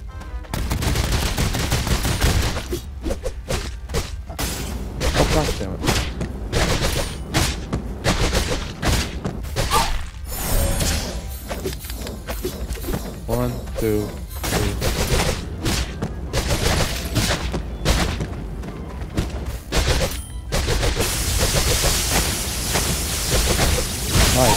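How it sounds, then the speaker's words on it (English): Rapid bursts of gunfire from the player's gun in the video game Cat Quest 3, dense fusillades with booms and thuds over game music, with stretches of the player talking. "Let's use my gun."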